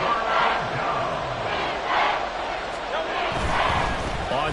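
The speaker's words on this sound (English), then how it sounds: "the crowd getting into it as we come up on a big 3rd down" A virtual stadium crowd in a Madden football video game roars and swells ahead of a big third down, with loud cheering surges throughout and commentary talk over it.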